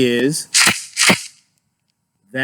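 Three sharp, hissy shakes of a shekere, a cowrie-strung rattle, giving its high treble sound, crisp and bright, with a voice briefly at the start and end.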